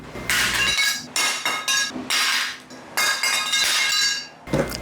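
A welded metal piece is dropped and clatters several times, sharp metallic clinks and rattles bouncing in quick bursts at close range before settling.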